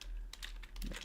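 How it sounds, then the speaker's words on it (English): Quick keystrokes tap on a computer keyboard in a short, close burst of several clicks over a low steady hum. "we're going to be typing in Zksync."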